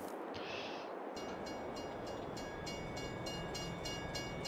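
Train in Farming Simulator 22 rumbles steadily in a low continuous drone, with a short horn-like tone early on and rhythmic clicking of wheels over the track joints later.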